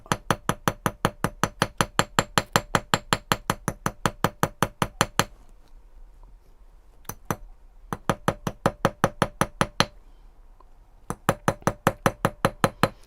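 A ball peen hammer strikes a hand-stamped copper pendant in rapid, even bursts of sharp metallic taps. The bursts stop briefly, then resume, and a few isolated knocks fall in the pauses.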